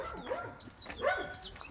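A brindle blue-nose American Bully dog gives short barks and whimpering yips close by, in uneven bursts over a steady outdoor background.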